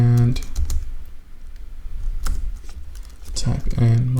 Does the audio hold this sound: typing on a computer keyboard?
yes